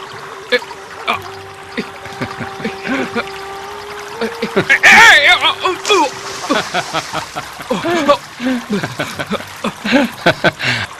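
Water splashing and trickling in an animated story scene, intermittent splashes and dribbles heard beneath several voices talking over most of the clip.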